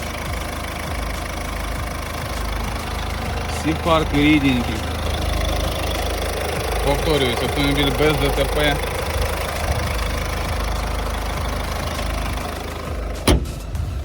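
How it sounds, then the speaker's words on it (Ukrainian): A 2021 Ford Focus 1.6 turbo-diesel with a manual gearbox idles with a steady, even rumble that holds throughout, while someone talks over it close to the microphone. "Зараз вам покажу моторчик. Працює ідеально."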